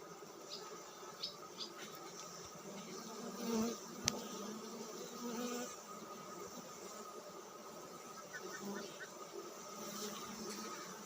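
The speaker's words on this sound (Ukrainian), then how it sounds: "Ну, бджоли небагато." A steady, low hum of many honey bees buzzing close by around a hive, with a faint thump or two in the background.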